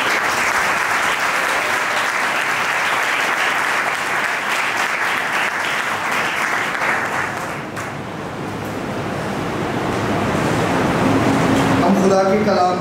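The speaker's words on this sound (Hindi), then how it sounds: "जोरदार तालियां।" Loud, sustained applause from a church congregation fills most of the span, dips briefly, then swells again near the end with some voices mixed in.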